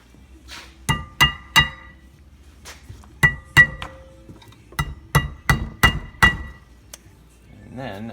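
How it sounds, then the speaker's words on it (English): Sharp metallic hammer taps ring out in uneven bursts while tapping clutch parts into place on a 1996 Mustang GT, around a dozen strikes with short pauses between, close and fairly loud. "I'll just tap them in the rest of the way with a hammer."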